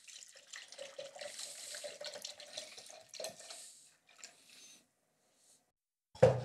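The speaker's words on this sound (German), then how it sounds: "Ich nehme da jetzt einfach einen Weißweinessig, fülle das so circa die Hälfte voll an." White wine vinegar is poured from a bottle into a jar as a faint, gurgling liquid trickle with irregular glugs, followed by a pause and a sharp clunk at the end, indoors in a kitchen.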